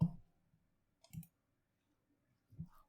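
A computer mouse clicks three times in a quiet room, with sharp, close single clicks spaced unevenly about a second apart and nothing else audible.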